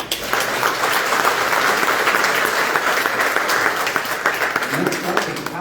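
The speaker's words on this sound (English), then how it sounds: "I think we should give them a round of applause." An audience at a candidate meet-and-greet in a Presbyterian church breaks into loud, sustained applause that lasts for several seconds, with some voices mixed into the clapping.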